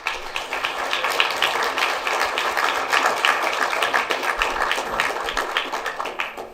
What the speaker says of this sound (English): So if we give a round of applause to Riley Fowler.